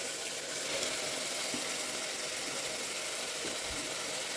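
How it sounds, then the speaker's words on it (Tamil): About 300 grams of country chicken, squeezed dry of water, goes into a hot pan, producing a quiet, steady sizzling hiss with no talk over it. "இப்போ நம்மளோட கோழி நல்லா தண்ணி இல்லாமல் நல்லா புழிஞ்சிட்டு இப்படி எடுத்து போட்டுக்கலாம்."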